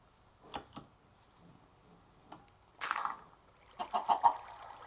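Chickens moved around near water make a few short clucks and squawks in scattered bursts, with a louder flurry near the end, fairly close and otherwise quiet.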